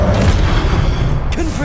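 A Confringo fire spell bursts in Hogwarts Legacy as a loud, close, booming blast with heavy low rumble that fills the short moment, ending with a brief crackle.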